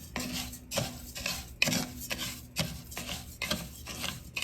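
Rice being stirred through oil in a pan before frying for Mexican rice, a close scraping and rubbing of a utensil against the pan in repeated strokes about every second, with no talking.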